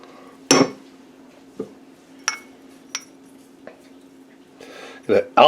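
A spoon mixes onion powder, garlic, pepper and parsley in a bowl, giving a few sharp clinks and taps against the dish, spaced apart over a low steady hum.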